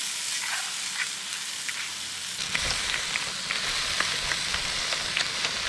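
Marron crayfish sizzle in a hot pan, a steady bright frying hiss with scattered crackles and pops that grows fuller after a soft start, close and continuous with no talking.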